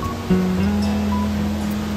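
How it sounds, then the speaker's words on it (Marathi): The Gad river, swollen by constant rain, pours over a weir in a steady, loud, unbroken rush of water with a low hum beneath it. "गडनदी दुथडी भरून वाहत आहे"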